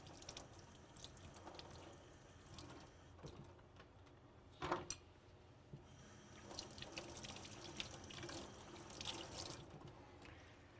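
Water runs faintly from a tap as plastic PPE parts from an IDC Snap System respirator are rinsed. A soft steady stream splashes, with a few small clinks and drips.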